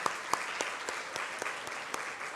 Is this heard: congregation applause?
yes